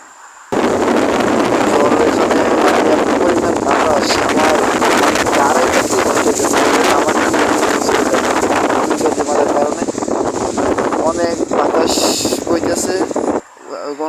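Strong, roaring Cyclone Remal wind buffets the microphone continuously with floodwater rushing over a road underneath, loud and close throughout before cutting off near the end.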